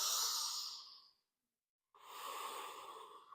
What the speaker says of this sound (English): I want you to give me 2 deep belly breaths right here.